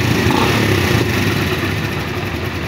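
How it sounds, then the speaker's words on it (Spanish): A Suzuki GS 150 motorcycle engine idles steadily just after starting, a continuous low rumble close by with no talking. "Listo, como vemos ahí ya prendió la moto."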